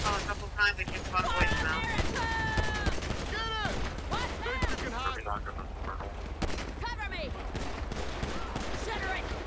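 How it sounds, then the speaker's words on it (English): Bursts of automatic gunfire in GTA V ring out repeatedly over several seconds, mixed with siren-like wails, radio chatter and game ambience, while voices talk over the action. "we got shots fired. Automatic weapon fire."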